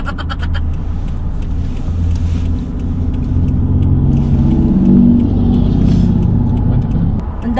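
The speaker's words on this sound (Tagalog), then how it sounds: "Ang daming sasakyan." Steady road traffic from inside a car, with a continuous low rumble of engines and passing vehicles throughout, and a brief voice near the start.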